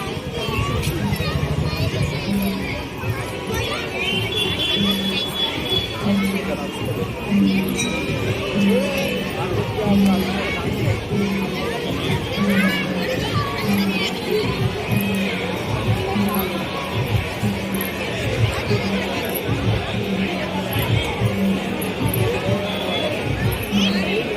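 A dense crowd of devotees chatters in front of the Mahamaya temple, a steady, continuous babble of many voices with scattered clinks, close and loud throughout.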